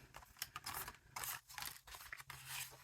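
Paper die cut from a craft kit folded and creased along spine score lines, with brisk rustling and crinkling bursts over about three seconds under a steady low hum.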